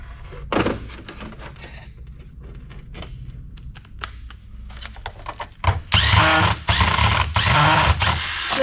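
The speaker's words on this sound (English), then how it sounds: "I had to pull up on it at the same time I was trying to unscrew it in order to get it to come out" A power screwdriver works at a stuck screw in a sand-filled scrap PC: short ratcheting and clicking bursts early on, then longer loud whirring runs near the end, close up.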